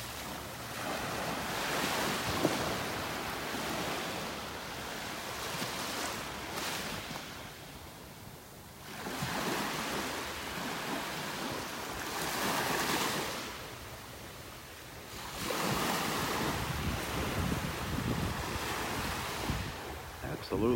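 Ocean surf rolls onto a beach in repeated surges, each wave swelling into a broad wash and then receding, with steady wind buffeting close by throughout.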